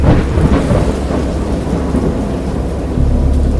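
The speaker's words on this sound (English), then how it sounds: "I have indistinct recollections of a great storm sometime after I reached the boat." Heavy rain pours steadily with deep rolling thunder rumbling underneath, a dense, loud storm wash with no voices, in a Lovecraftian horror video game.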